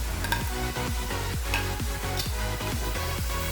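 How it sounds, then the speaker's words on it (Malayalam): Crushed ginger and garlic sizzle in a pan with clams, a steady close fry hiss with a quick run of spoon clanks and scrapes as the mixture is stirred; no speech. "നമുക്ക് നമ്മുടെ ഇഞ്ചിയും വെളുത്തുള്ളിയോടെ ചതച്ച് വെച്ചിരുന്ന് ഇടാം."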